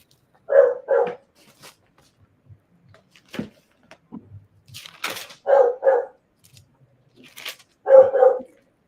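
A pet dog barks in short doubled bursts, three clear pairs spread across the stretch, loud and close in an otherwise quiet indoor room.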